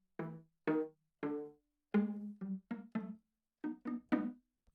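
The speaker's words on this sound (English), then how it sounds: "that's a pizzicato for LA strings on the violas." Plucked pizzicato violas from the LA Strings Kontakt sample library, about eleven short, clean notes in a quick melodic run, dry and quiet with silence between the plucks.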